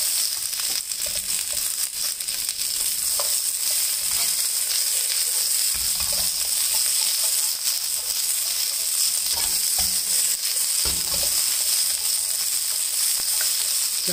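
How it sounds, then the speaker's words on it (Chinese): Sichuan green beans spread out and stir-fried in a wok give a continuous loud sizzle, with occasional spatula scrapes and low knocks breaking through the steady hiss; nobody speaks. "炒一炒，摊开炒一炒，大概五分钟左右"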